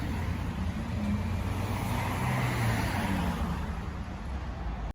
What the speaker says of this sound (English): Cars going in and out of the police station.